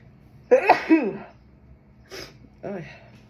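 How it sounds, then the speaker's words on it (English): Three short voiced bursts, the first a loud drawn-out sneeze, followed by two quieter explosive sneezes or throat sounds with pauses between. "Hold on, I'm gonna sneeze."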